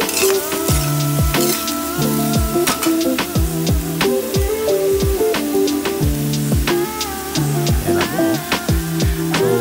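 Squid sizzling in a hot pan as it is stir-fried with soy sauce, oyster sauce and pepper, a steady loud frying hiss with repeated clatters of a utensil scraping and stirring throughout.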